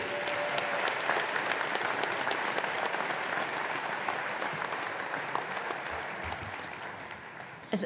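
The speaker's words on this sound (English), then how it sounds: "Let's give another round of applause to Mr. Fisher." Sustained applause from a sizable crowd at a college commencement ceremony, dense steady clapping that slowly fades toward the end.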